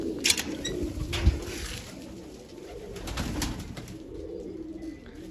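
A pigeon coos softly nearby, a few low throaty calls with faint chirps and a brief flutter early on.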